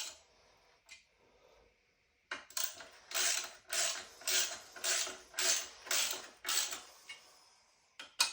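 Clutch bolts being tightened around a flywheel on a tuned 300TDI engine, heard as a steady series of close ratcheting bursts from a hand tool, roughly eight rhythmic pulses after a quiet start.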